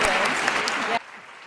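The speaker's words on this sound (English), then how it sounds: "give our esteemed panel and discussant a round of applause" Conference audience applauding a panel, a full burst of clapping for about a second that cuts off abruptly into quiet room tone.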